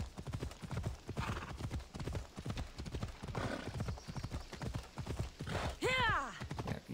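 Horse galloping in Assassin's Creed Odyssey, a rapid run of hoof clip-clops in steady rhythm, ending in a loud neigh near the end.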